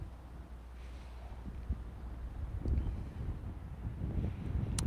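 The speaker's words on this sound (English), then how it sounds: "It's getting pretty windy." Gusty wind blowing outdoors, a steady low rumble buffeting the microphone and swelling in stronger gusts toward the end, with no speech.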